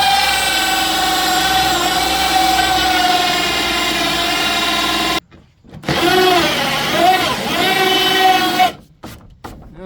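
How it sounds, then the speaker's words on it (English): A power drill drives a hole saw through wood sheathing on a house, giving a steady high whine for about five seconds, then stopping. A second, shorter burst of drilling follows before the tool cuts out again. "we will drill this out"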